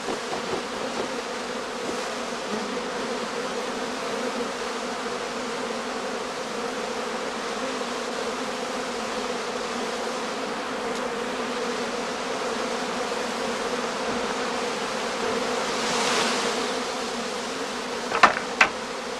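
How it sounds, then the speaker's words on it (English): Honeybees swarming around a heather skep in an apiary, a dense, continuous buzzing hum that holds steady throughout, with a couple of brief sharp knocks near the end. "Under the shade of the shed roof, the bees gradually calm down."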